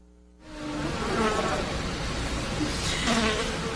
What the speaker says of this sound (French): Il y a une mouche.